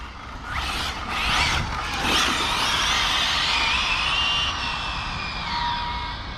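An Arrma Felony 6s RC car, freshly repaired and tuned, runs on warm tyres with a high, rising and falling electric motor whine. The whine sweeps up through acceleration and then eases off steadily as the car brakes.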